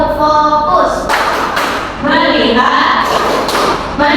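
A class doing the rhythmic 'tepuk fokus' clapping routine, loud group claps in a patterned beat mixed with voices chanting along.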